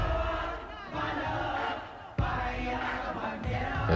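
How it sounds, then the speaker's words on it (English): A crowd chants along in unison inside a music track, a loud massed vocal roar layered over the song with a sharp hit midway. "It's like the crowd is singing it."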